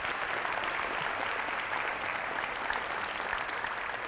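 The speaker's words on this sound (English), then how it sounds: "You can clap." Steady, dense applause from a quiz bowl audience in a museum pavilion hall, even and sustained for several seconds with no talking over it.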